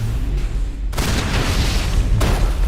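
Grenade blasts in Mass Effect 1 Legendary Edition on Hardcore difficulty, heavy booming explosions with a loud, sustained roar and a second burst near the end.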